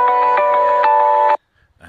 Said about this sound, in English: That was my phone going.